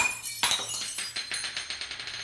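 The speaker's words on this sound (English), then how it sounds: "Oops, I broke a glass." A kitchen glass breaking during stew cooking: a sharp crash followed by a scatter of tinkling shards that rings on and fades, heard alone over a low background hum.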